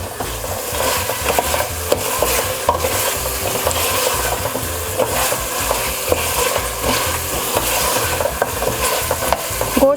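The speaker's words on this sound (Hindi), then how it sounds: "गोश्त को इस पॉइंट पे बहुत अच्छे तरीके से मसाले के साथ भूनें।" Beef pieces frying with spices for yakhni pulao, a loud steady sizzle mixed with constant scraping and stirring against the pot, no voices.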